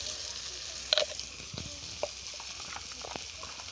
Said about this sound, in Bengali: এবার আমি সব মশলাগুলো ভালো করে কষিয়ে নেব।